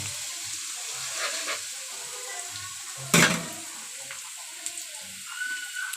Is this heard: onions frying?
yes